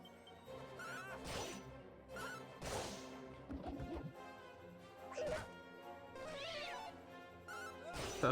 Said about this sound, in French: Un vieux chat vampire, très bien.